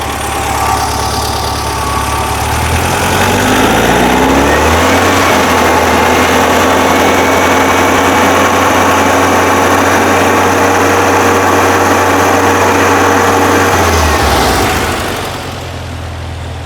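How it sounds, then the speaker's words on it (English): A 1978 VW Super Beetle 1776cc engine runs at a steady idle with a rattly, even drone. A thin, high, constant whine sits above it, and the engine drops away near the end. "I don't know if a high pitch whine's picking up in my mic, but if it is, that's the alternator"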